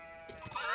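A sheep bleats in a medieval strategy video game, one brief wavering bleat rising near the end of the short moment over a steady game background.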